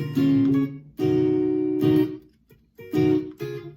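Short, chunky palm-muted electric guitar chords in a C shape strike in three bursts separated by brief gaps, each muffled and percussive with a ringing low tone.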